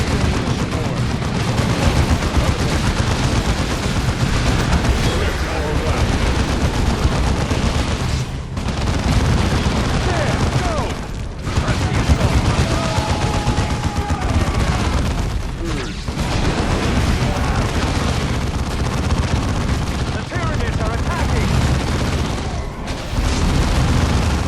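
Enemy gunfire in a Warhammer 40K Dawn of War II battle against Tyranids: dense, continuous volleys of rifle and machine-gun fire mixed with booming blasts, loud and relentless from start to finish.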